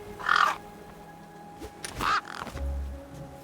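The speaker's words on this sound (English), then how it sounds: "Damn birds!" A crow in the Beyond a Steel Sky video game gives two loud, harsh caws about two seconds apart, each short and rasping, with a low rumble and faint background hum between them.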